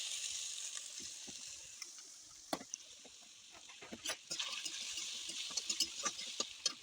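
Potatoes frying in a pan of hot oil, a steady broadband sizzle running throughout with scattered sharp crackles and pops, louder in the second half, no voices.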